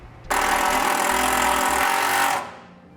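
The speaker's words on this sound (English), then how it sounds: "we'll just attach that up there with our provided self-tapping screw" A power drill drives a self-tapping screw through metal to fix a ground wire on a vehicle, a loud steady buzzing whir lasting about two seconds, close up, starting and stopping abruptly.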